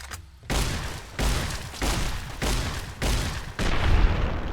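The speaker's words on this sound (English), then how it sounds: "I think I forgot just how powerful the riot shotgun is" Riot shotgun fired repeatedly in Fallout New Vegas, six loud booming blasts at roughly even intervals, each with a sharp attack and a short rumbling decay, with no talking.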